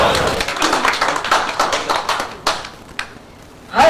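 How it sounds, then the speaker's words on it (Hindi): An audience at a Hindi kavi sammelan poetry recital in Kadapa claps in a loud burst of many hands that thins out toward the end, with a few scattered late claps and a brief sound at the close. "अच्छा लग रहा है, ताली बजाइएगा।"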